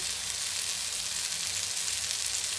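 Fish pieces fry in hot oil, a dense, steady hiss and sizzle close up with no pauses, loud and continuous throughout.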